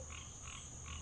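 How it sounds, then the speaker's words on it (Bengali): Cartoon-style frog croaks from a roadside canal on a rainy night, three evenly spaced croaking bursts over a steady hiss, moderately near and alone. "রাস্তার পাশের খাল থেকে ব্যাঙের ডাক আসছিল"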